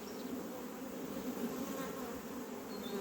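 Honeybees hum steadily around an open brood frame lifted from a hive on a hot day, a close, continuous buzz with no talking.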